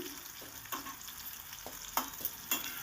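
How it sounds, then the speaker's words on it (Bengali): Broad beans (shim) lightly frying in oil, giving a soft, faint sizzle with a few light spatula scrapes and taps against the pan, close by and quiet. "দেখুন সিমগুলো আমি হালকা হালকা করে একটু ভেজে নিচ্ছি"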